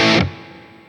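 Electric guitar through a Line 6 POD GO with the Fatality preset and reverb: one loud distorted chord cut short, leaving a faint reverb tail that fades quickly.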